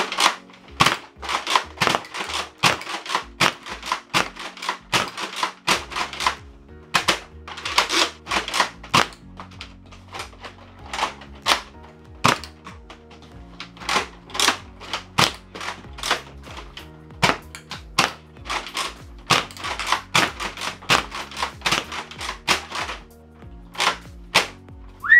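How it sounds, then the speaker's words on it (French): A Nerf blaster firing darts in rapid bursts, sharp clacking shots fired close by in quick clusters with short pauses between volleys, sustained over a long stretch. "vous appuyez fort sur la détente, et ça tire tout d'un coup"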